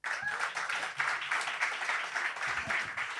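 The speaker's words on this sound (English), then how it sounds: "please, round of applause for Alan Deegan" Moderate clapping from a small audience during a live-streamed rugby discussion, a steady patter of hands with uneven bursts.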